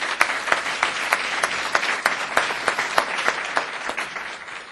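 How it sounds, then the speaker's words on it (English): Audience applause for panelists at a forum on American Indian issues, steady and fairly loud, with dense clapping and individual sharp claps standing out throughout. "can we give another round of applause to our panelists?"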